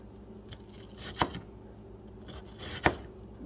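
A knife chops onions finely on a cutting board for homemade salsa, with two sharp, distinct chops about a second and a half apart over soft, quiet background handling sounds.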